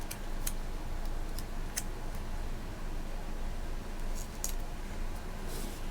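Scissors snip through a cardboard box in a few sharp, scattered cuts over a steady hiss, close and fairly quiet, with no one talking.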